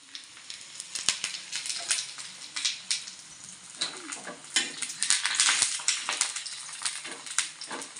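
Parotta flatbread frying in oil on a flat pan, with a steady close sizzle broken by frequent sharp clinks and scrapes as the pieces are pressed and turned.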